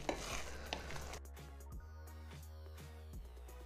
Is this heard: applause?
no